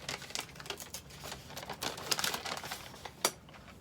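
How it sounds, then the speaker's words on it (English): Scissors cut along the seam of a paper bag with crisp, irregular crinkling snips and rustles, close and quiet, with no talking. "cut along the seam, and then fold it"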